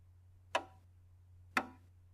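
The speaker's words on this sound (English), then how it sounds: "The beat of a piece of music is, by itself, kind of boring." A steady musical beat sounds like a clock ticking: two sharp, evenly spaced clicks about a second apart over a faint low hum, with no talking.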